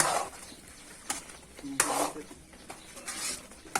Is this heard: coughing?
no